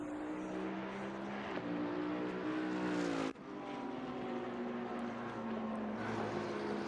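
Porsche and Aston Martin race cars at Silverstone roar through the fast Maggotts and Becketts bends during a 12-hour charity endurance race, with loud sustained engine notes shifting pitch as cars pass, one sweeping by close with a sharp drop.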